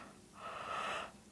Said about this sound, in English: I'm talking too much, it's making me yawn.